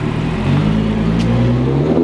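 Audi B8 S4 with non-resonated downpipes and a touring exhaust revs loudly up close, a deep sustained engine drone with shifting pitch throughout.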